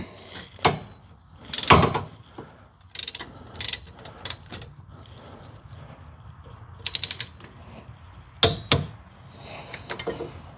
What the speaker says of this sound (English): put it on our torque wrench, and we're going to torque it down to 25 foot-pounds